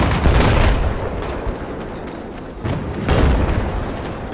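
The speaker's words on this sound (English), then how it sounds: "You can hear the gunfire in front." Dense, continuous gunfire in Battlefield 4 with booming bursts rolling through, loud and sustained, swelling around the middle and end.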